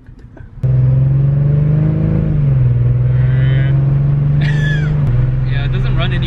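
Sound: Mercedes-Benz C300 W204 engine running rough

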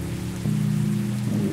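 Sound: rain in the video game Sally Face

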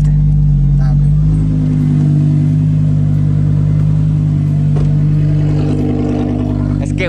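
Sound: Audi R8 sports car engine revving and accelerating

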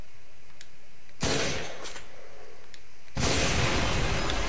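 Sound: explosion in the video game Modern Warfare 3 on Wii

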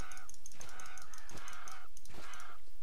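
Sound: bird call from the video game Titan Quest

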